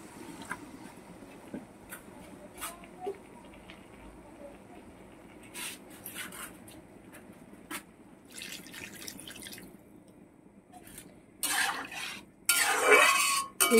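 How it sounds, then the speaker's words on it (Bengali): Water pours into a pan of rohu fish curry at the end, a louder splashing burst after a quiet stretch of scattered drips, clinks and stirring in a home kitchen. "এবার জল দিয়ে দিচ্ছি।"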